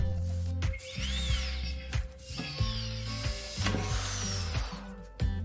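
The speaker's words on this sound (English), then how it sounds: "we make 4 holes in the pot at equal distances from each other, and then we make 4 more holes directly opposite them" Holes being made in a metal cooking pot, with bursts of whirring tool noise broken by clunks and handling knocks, close and fairly loud.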